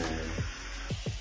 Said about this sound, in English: spray my hair off with some water